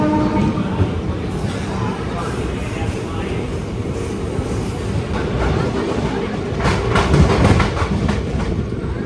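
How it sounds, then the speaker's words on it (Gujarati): Gujarat Superfast Express running between Vadodara and Bharuch, its wheels rumbling and clattering steadily on the rails, louder in the second half and heard from inside the train. "આ છે આપણી ટ્રેન જે જઈ રહી છે અમદાવાદથી મુંબઈ સેન્ટ્રલ"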